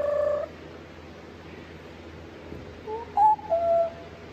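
Birds call outdoors during an upper-body workout, with a short tonal call at the start and a few brief whistling notes near the end over a quiet background.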